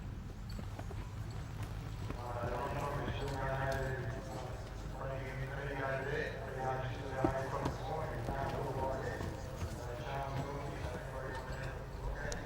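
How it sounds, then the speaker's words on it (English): A horse being broken in and led by the halter moves with hooves clip-clopping and an occasional whinny, under steady close talk from a trainer over a low background hum. "This horse is very tractable."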